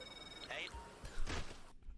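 A video game phone rings in short electronic bursts over lively game audio and someone talking, the ringing brief and partly masked by his voice.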